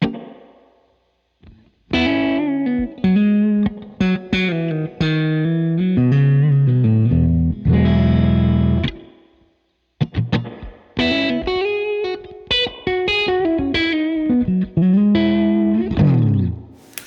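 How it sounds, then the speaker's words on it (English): Distorted electric guitar phrases through a Boss RV-500 reverb pedal's spring reverb ring out with a splashy, boingy tail, loud and close, with a short pause midway. "Sounds like a spring reverb."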